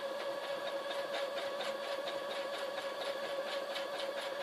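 A sewing machine runs steadily while stitching a feather pillow, its motor hum and rapid needle clatter continuous and close throughout.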